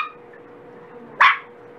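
A small dachshund gives a single short, sharp bark partway through, close and loud above a quiet room.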